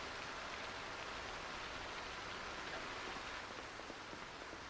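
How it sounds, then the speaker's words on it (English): Steady rain in the video game Project Zomboid during unending storms, a dense, even hiss of falling water that fills the whole stretch at constant level with no voices. "It sounds more like the rain."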